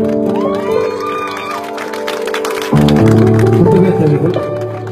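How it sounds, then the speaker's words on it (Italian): Audience at a Neapolitan serenade concert in Naples cheers and applauds over ongoing music and a loud voice, with a denser burst of crowd noise in the second half. "facciamo un applauso"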